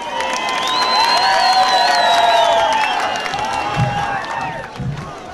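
Concert crowd cheering and applauding for a singer's performance, a broad dense wash of clapping with whoops and shouts, sustained and loud throughout.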